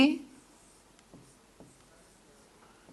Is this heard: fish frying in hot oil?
no